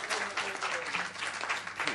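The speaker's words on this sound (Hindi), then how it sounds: "तालियों से इस्तकबाल करें" A mushaira crowd in Kurla claps to welcome a poet to the stage, dense and sustained applause filling the room, with voices mixed in beneath.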